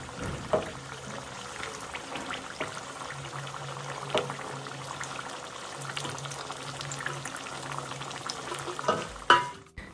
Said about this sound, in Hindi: तेल जब गर्म हो गया है तो उसमें डाल देते हैं ये मठरी